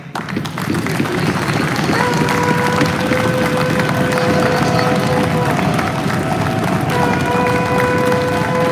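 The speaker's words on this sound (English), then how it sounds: "give a round of applause to the Zephaniah up there, man" Crowd applause with cheering fills the space at a gathering of the Sons of Thunder Israelites, a dense, continuous wash of clapping and voices at steady loudness.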